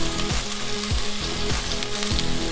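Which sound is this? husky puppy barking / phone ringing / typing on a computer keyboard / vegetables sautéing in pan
vegetables sautéing in pan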